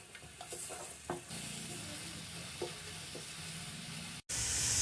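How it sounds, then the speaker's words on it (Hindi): Gentle sizzling of garlic ginger paste frying in a pan, with a few soft stirring scrapes, steady and close, before a brief cut to louder hissing. "लहसुन अदरक का पेस्ट डालने के बाद हम इसको 2 से 3 मिनट फ्राई कर लेंगे।"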